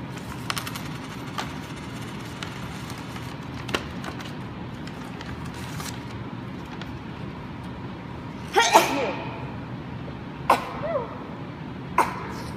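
A single sneeze bursts out partway through a quiet room, loud and sharp against low background hum, followed by a couple of short vocal sounds or sniffs.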